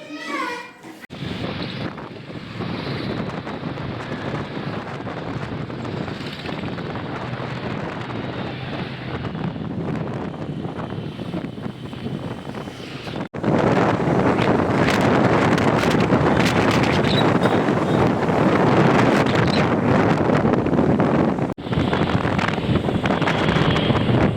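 Wind noise buffeting the microphone while riding pillion on a booked motorbike taxi, a constant heavy roar that grows louder and rougher partway through as speed picks up, with brief dropouts.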